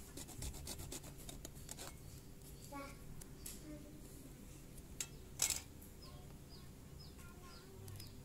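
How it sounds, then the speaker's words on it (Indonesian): A metal file rasps against a PVC pipe bow, smoothing a hacksaw cut and notching the string grooves. The strokes come as faint, repeated rubbing with quiet birdsong in the background. "Sini saya gunakan kikir kembali untuk menghaluskan bagian yang sudah dibuat oleh gergaji besi dan membuat celah jalur pada kanan dan kirinya."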